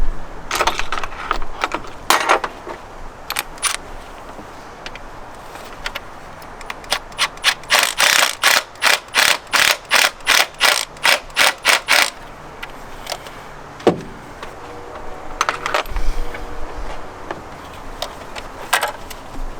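Ratchet turning Torx 30 bolts on the valve cover of a BMW N55 engine in an E70 X5, heard as a fast run of sharp, evenly spaced clicks midway through, with scattered metallic rubs and taps before and after, close by.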